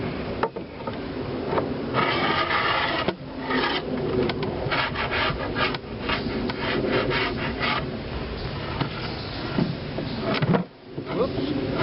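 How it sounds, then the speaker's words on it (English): A beehive part from a re-queened swarm hive being scraped down with a hive tool, continuous rough rasping strokes up close for several seconds, with a brief lull near the end. "I'm going to scrape that down real quick before I put it back on."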